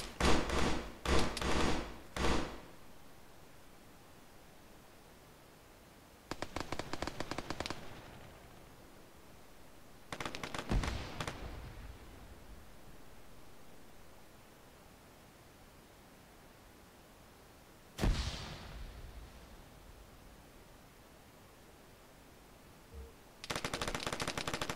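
Bursts of automatic gunfire in a capture-the-flag video game match, arriving in separate loud volleys with quiet gaps between them and no talk over them.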